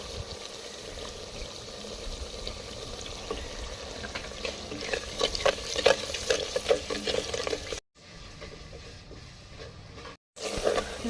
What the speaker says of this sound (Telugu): ఉల్లిపాయ కొంచెం వేగినాక దీంట్లోకి అల్లం వెల్లుల్లిపాయ పేస్ట్ వేసుకోవాలి.